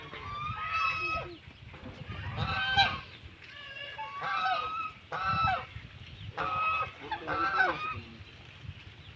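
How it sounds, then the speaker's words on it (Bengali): A goose (rajhans) in rural Barisal gives a series of about six loud, nasal honks in irregular bursts, close by, with low background rumble and no talk. "ওই দেখো রাজহাঁস"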